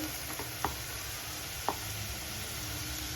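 Onions sauté in a pan for an omelette curry, giving a steady soft sizzle with a couple of sharp clicks of a spoon stirring against the pan.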